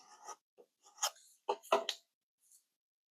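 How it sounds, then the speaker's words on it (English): Close, soft scratchy rubbing in several short bursts as light grip transfer tape is burnished from the back side on a canvas stencil, with quiet gaps between strokes. "I like to just burnish from the back side as well, because these light grip transfer tapes are not super sticky."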